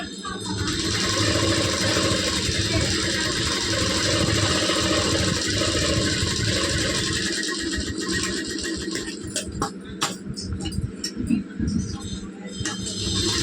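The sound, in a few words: sewing machine stitching a belt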